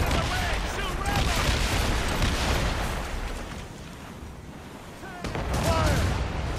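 Naval cannon fire during a ship battle in Assassin's Creed Rogue, a dense roar of booming broadsides and crashing impacts that eases briefly then swells again, with shouted crew voices mixed in.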